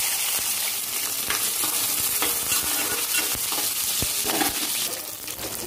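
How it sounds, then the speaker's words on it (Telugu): Sliced onions, slit green chillies and curry leaves fry in hot spluttering oil seasoning for a Krishna-style rasam, giving a steady loud sizzle with crackling pops and occasional stirring scrapes, no voices. "ఇక్కడ వచ్చేసి ఆనియన్స్ ఎక్కువగా ఫ్రై అవ్వాల్సిన అవసరం లేదు, జస్ట్ లైట్గా కలర్ చేంజ్ అయితే చాలు"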